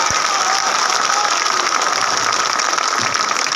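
Dense, loud applause from a large crowd at a political rally in Shantipur, a steady wash of clapping filling the whole stretch without letup.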